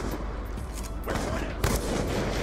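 Gunfire fills a Black Ops 2 trickshotting match, with dense overlapping shots and bursts that come close and loud over steady game noise, plus a sharper blast partway through.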